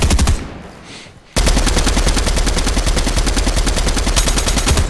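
Dense, rapid automatic gunfire in the video game Fortnite, loud and continuous, with a brief lull near the start before the sustained burst of shots resumes and runs to the end.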